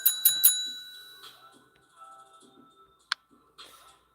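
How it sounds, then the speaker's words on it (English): A bell rings three quick bright dings in a row close up, each ringing out and decaying. Later a single sharp ding sounds, followed by quieter clicks and light handling noise. "last call for the bell"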